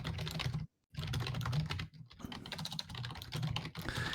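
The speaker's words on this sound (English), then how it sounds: "And the furious typing by Stephieee" Furious, rapid typing rattles on a computer keyboard, dense clacking bursts broken by a couple of brief pauses, close and clear with no voices.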